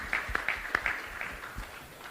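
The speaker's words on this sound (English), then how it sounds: "Let me get a round of applause for my esteemed guests and colleagues up here on the stage." Sparse audience clapping at a crypto conference on stage in Dubai, a handful of distinct claps at an irregular rhythm, fairly near and moderately quiet, fading over about two seconds.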